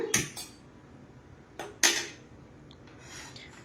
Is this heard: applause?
no